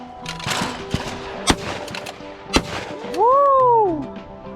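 A custom Remington 1100 shotgun fires on a trap field at Wallingford, Connecticut, giving several sharp, booming reports spaced about a second apart, followed by a loud whooping shout.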